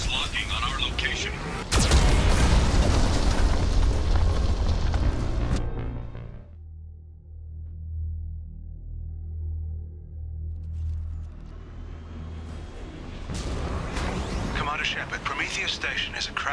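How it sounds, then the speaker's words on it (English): Loud video-game cannon blasts and heavy explosions from a Geth cannon in Mass Effect 2 Legendary Edition's Overlord mission, with a sharp boom, a rumbling lull, then another burst of firing. "Warning, Geth cannon is locking on our location."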